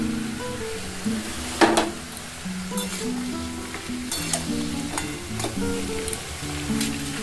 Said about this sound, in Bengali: সবজিগুলো সব আমি একসঙ্গে দিয়ে দিলাম ঠিক আছে একটু ভাজা ভাজা করবো